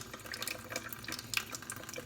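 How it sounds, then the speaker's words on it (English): A sink sprayer blasting water onto painted miniature models during paint stripping, a steady, fairly faint hiss of spray with irregular splashy spatters and drips, no voices. "if you spray them with water, a lot of this paint will actually just start rushing off"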